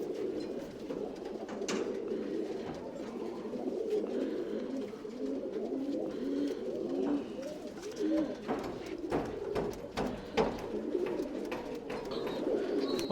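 Tumbler pigeons in a loft coo in soft, overlapping throaty calls, a continuous murmur of several birds nearby with occasional wing flutters and faint knocks.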